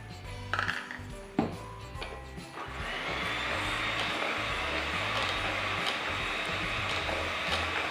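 Buttermilk is mixed into mocha cake batter: a few sharp knocks and clinks, then a steady, continuous whirring that holds at an even level to the end.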